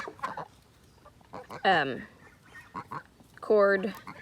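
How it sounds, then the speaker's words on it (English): Two loud honking Cotton Patch goose calls ring out close by, separated by softer clucking and faint speech in the background. "The other geese are gonna come pester me."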